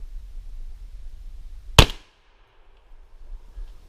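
A single sharp blast from a Remington 870 shotgun loaded with 00 buckshot, fired at a 7-yard pattern target outdoors; one loud close report with a short fading tail, then quiet.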